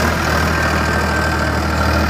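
A Mahindra tractor engine runs steadily nearby at an even idle, giving a loud, continuous low rumble with a faint knocking texture and no voices over it.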